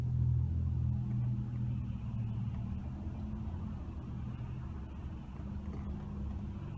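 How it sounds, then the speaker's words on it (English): A steady, loud low rumble of stopped traffic, with car engines idling close by, runs continuously with no voices heard. "yeah, this is traffic stopped."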